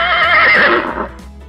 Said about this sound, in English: Great job! It's a horse.